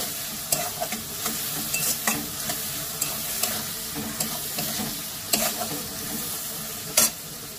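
Raw tomatoes sizzle in hot oil with a katla fish head for muri ghonto, a steady frying hiss broken by repeated spoon-scrape stirring strokes every second or so, close and moderately loud with no talking.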